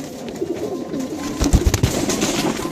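Male Giachulli pigeons coo in low, throaty bursts, several overlapping calls building in the middle, close by against a soft background hum.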